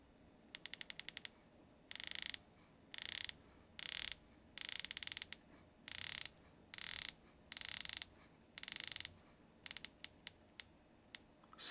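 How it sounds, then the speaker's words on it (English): Dive watch bezel ratcheting through a series of sharp, distinct clicks as it rotates, in short bursts with brief pauses between turns, close-up and crisp against a quiet background. "Solid bezel action. The clicks are very, very distinct."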